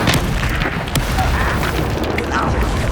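A blasting-curse explosion in Hogwarts Legacy, a loud booming burst with heavy low rumble that fills the stretch, a few sharper cracks on top and a voice partly mixed in.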